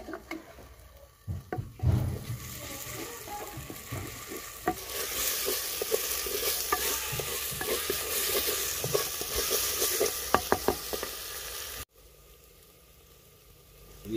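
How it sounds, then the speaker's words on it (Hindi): Crushed garlic added to browned onions frying in a pan for a green garlic curry, a steady close sizzle with scraping stirs and small pops throughout, then it suddenly drops away near the end. "प्याज ब्राउन हो गया, अब इसमें हम वो जो लहसुन था उसको हमने कूट लिया वो शामिल करते हैं।"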